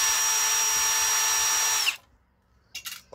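A power drill runs steadily for almost two seconds, loud and close, backing bolts out of the battery pack of a BMW E65 7 Series being converted to electric, then stops, followed by a few faint clicks of parts being handled.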